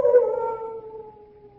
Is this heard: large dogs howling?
yes